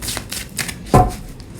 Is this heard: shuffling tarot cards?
yes